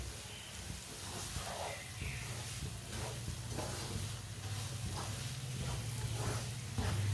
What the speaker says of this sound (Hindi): ऐसे ही चम्मच चलाते हुए पकाना, भूनना सूजी को चम्मच चलाते हुए